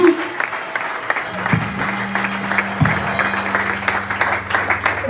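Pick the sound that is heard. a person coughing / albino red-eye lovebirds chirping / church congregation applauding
church congregation applauding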